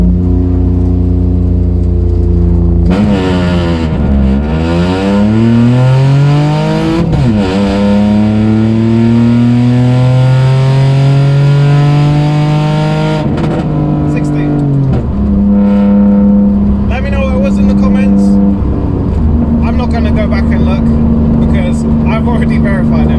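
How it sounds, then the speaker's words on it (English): A tuned stage 2 Toyota Aygo launches hard from a 3,000 rpm hold with the clutch dumped, its small engine revving up loud and close through several rising gear pulls, each shift marked by a sharp drop in pitch. "We're gonna go again with a 3K launch, and then I'm literally just gonna dump the clutch."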